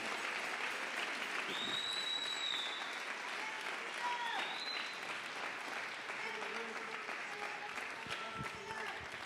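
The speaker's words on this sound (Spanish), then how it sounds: "Démosle una ofrenda de aplausos, pero así, ofrenda a nuestro Dios," A church congregation claps steadily through a Spanish-language worship service, a dense continuous applause with scattered voices and faint calls rising over it.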